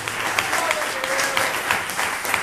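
A church congregation claps during a worship service for the anointing of workers, brisk continuous applause with a faint voice rising briefly in the middle.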